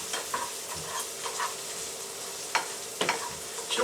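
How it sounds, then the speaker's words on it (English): Turkey pasta with basil and oregano is stirred in a pan over medium heat, a soft continuous sizzle broken by several scraping clicks of the spoon against the pan. "Now, stir this up."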